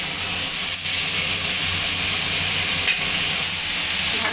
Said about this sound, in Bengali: মশলাটা ভাজা হয়ে গেছে, এবার আমি চাল কুমড়োগুলো দিয়ে দেবো